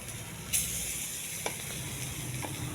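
Onions, curry leaves and ginger-garlic paste fry in hot oil with a steady broad sizzle and a sharp burst as something is added, followed by faint stirring clicks close by.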